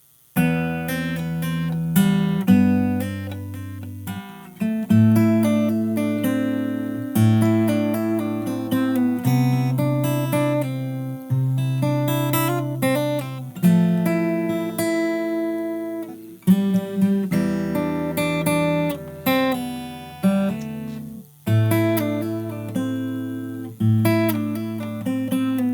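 Fingerstyle acoustic guitar plays the chorus of a song, with plucked bass notes and melody in a steady rhythm, close and clear, no voices.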